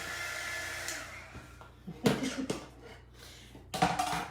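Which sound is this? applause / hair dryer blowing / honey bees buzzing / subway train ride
hair dryer blowing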